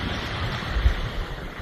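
Atlantic Ocean waves heard from a rowing boat during an ocean crossing: a constant rushing wash with wind buffeting the microphone and a soft thump midway.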